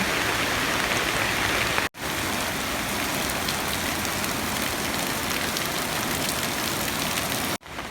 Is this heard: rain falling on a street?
yes